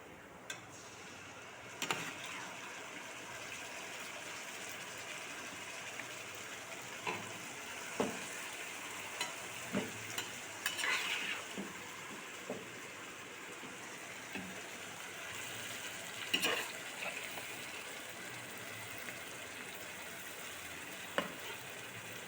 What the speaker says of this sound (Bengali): এইবার আমি এই মাংসটা যে মেখে রেখেছিলাম সব কিছু দিয়ে ওটা এখন দিয়ে দিচ্ছি।